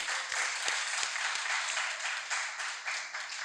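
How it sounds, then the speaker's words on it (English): Steady applause from an audience at a community mental health awareness event for the volunteers, dense clapping with a few sharper individual claps standing out, moderately loud throughout. "they need a round of applause for the volunteers"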